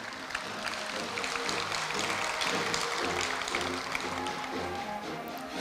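Applause from the audience at a Korea University anniversary award ceremony: a steady, full round of clapping that holds for several seconds, with a faint tonal layer underneath.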